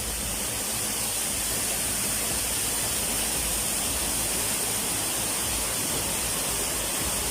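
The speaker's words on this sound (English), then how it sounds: "While filming a serene waterfall" A forest waterfall pours in a constant, dense broadband rush, steady and unbroken from start to finish with no voices or other distinct sounds.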